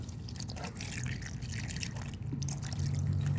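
Water poured into a grinder jar holding grated coconut, a steady splashing, trickling flow that runs continuously and close by, getting slightly fuller toward the end.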